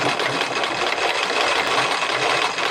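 A sewing machine runs steadily, top stitching a round cargo pocket on a utility vest, a continuous loud motorised whir and rapid needle clatter with no break.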